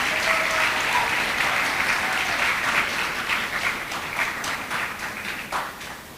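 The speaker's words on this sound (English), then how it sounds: "Another round of applause for them, please." An audience at a secondary schools debating competition final gives a sustained round of applause, dense clapping holding steady and then tapering slightly toward the end, no voices over it.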